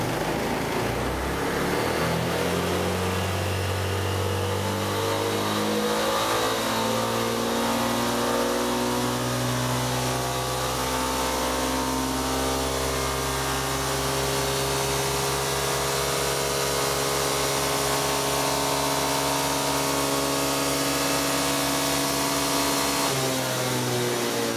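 A Yamaha Majesty 250 scooter engine revs steadily under load on a power test, its pitch climbing and sagging as it struggles to hold revs, loud and continuous with no talk.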